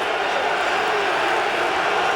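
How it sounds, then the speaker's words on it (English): Loud stadium crowd at a night CFL football game, Calgary Stampeders at Hamilton Tiger-Cats, a dense, continuous roar of cheering voices filling the air without a break. "This crowd is loud here tonight."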